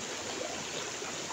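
Steady rush of a stream on Lantau Island, Hong Kong, near Tung Chung, its broad, even flow continuous and fairly close, with no voices over it.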